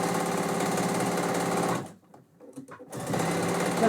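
Sewing machine stitching through a pinned quilt, a fast steady mechanical whir that runs, stops for about a second with faint handling noises, then resumes, close and loud.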